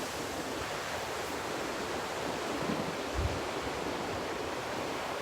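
Pacific Ocean waves surging against rocks at dusk: a steady, dense roar of surf and wash, with one heavier low surge partway through and no voices.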